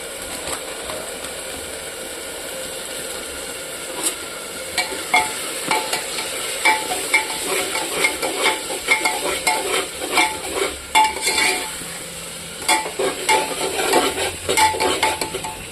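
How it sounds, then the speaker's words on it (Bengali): Chicken masala with turmeric, chili powder and salt is stir-fried in a pan. It starts as a steady oily sizzle, and repeated close scraping and clanking strokes grow louder and busier throughout, with no one talking. "এটাকে এখন আমি কষাবো আরও কিছুক্ষণ।"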